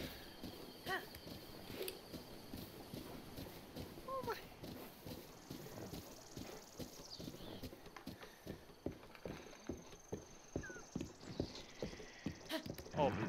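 Hooves of a horse in the video game Breath of the Wild clip-clop in a steady rapid rhythm of sharp thumps, loud and close, with game ambience and someone talking over it.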